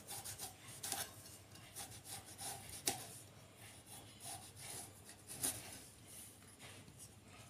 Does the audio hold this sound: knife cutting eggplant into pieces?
yes